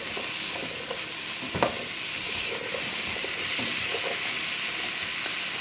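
Onions sizzling in a pot while being stirred, a steady close hiss of frying with occasional scraping clatters from the spoon, no voices.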